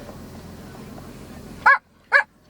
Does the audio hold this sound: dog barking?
yes